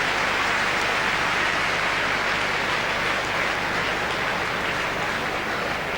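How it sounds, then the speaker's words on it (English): At a 1999/00 Huddersfield Town versus Charlton Athletic football match, the stadium crowd applauds an injured player as he leaves. The clapping is a loud, dense, hissing roar that holds steady throughout. "Warm applause for Craig Armstrong as he leaves."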